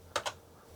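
A couple of quick key presses on a Sinclair computer keyboard while BASIC is typed in, two close clicks, near and clear against a quiet background.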